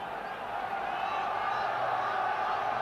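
A Dutch football crowd at a Netherlands versus England match sends up a steady, dense roar of noise throughout, loud and continuous, with commentary speech running over it.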